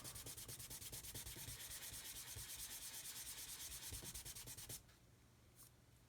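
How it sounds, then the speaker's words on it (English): Rapid, steady back-and-forth strokes of a sanding stick on a plastic 1/72 B-52 model kit part, close and scratchy, continuing for several seconds before stopping and leaving near silence. "all you're basically doing is sanding it away until all of that backing disappears"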